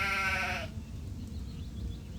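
A sheep bleats in the Gothic 2 video game, a single sustained harmonic bleat in the first half-second before dropping away to a low ambient rumble.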